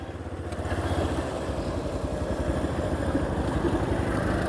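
Engine of a Yamaha FZ-S FI V4 motorcycle being ridden, a steady close thrumming rumble that holds evenly throughout with no talk.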